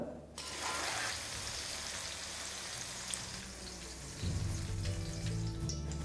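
Vegetables fry in hot oil in a pan after the eggplant has come out, giving a continuous close sizzle with a low rumble and clatter partway through.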